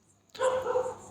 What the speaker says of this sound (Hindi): ये कुत्ते अभी भी भौंक रहे हैं,